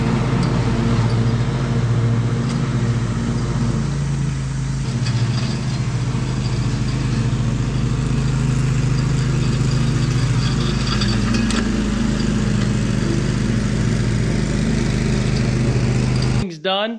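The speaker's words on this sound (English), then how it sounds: "So we're gonna go mow." A lawn mower engine runs steadily while mowing, a loud continuous drone close by that holds for the whole stretch, with a brief dip partway through and a sudden cutoff at the end.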